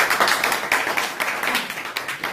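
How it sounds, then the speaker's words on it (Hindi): A small group applauds in a mobile software training class: brisk, close clapping with a dense, uneven rhythm that lasts a couple of seconds. "इनके लिए तालियां बजा दो यार"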